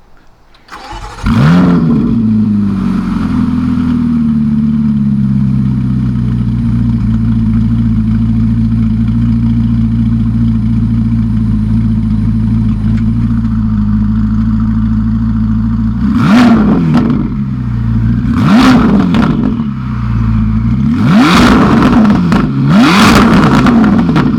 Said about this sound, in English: You really hear those turbos.